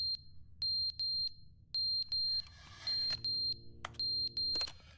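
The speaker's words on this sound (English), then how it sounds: "Why's the fire alarm going off?" A fire alarm in the video game The Stanley Parable sounds in steady repeating bursts of three shrill electronic beeps, loud and close, with occasional sharp clicks between cycles.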